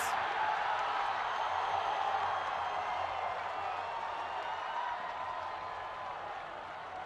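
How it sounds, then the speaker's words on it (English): A stadium crowd roars at Perry Park during a penalty shootout between Brisbane Strikers and Wellington Phoenix in the 2019 FFA Cup, a broad, sustained cheer with applause that swells briefly then fades slowly, no speech. "You can hear the crowd going up around Perry Park"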